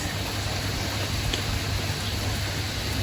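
Steady rain falls outdoors around a hut with roofs nearby, a dense continuous hiss filling the whole stretch at even loudness with no voices over it.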